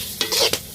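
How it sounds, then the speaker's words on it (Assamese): Silkworm pupae frying in a wok with khar and salt: a short burst of loud sizzling with a couple of scraping stirs against the pan, and no voices. "কেৰাহীত খাৰ আৰু নিমখ দি ভাজি আছে"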